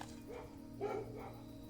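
A dog barks a few times in the Blue Prince video game, moderately loud against a steady droning game soundtrack.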